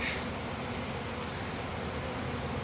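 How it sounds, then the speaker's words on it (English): Honeybees on a frame lifted from a backyard hive during an inspection, the colony just shaken, make a steady, dense hum that holds evenly throughout without a break. "As you can see, it's just a bunch of bees there."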